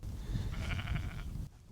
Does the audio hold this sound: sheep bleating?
yes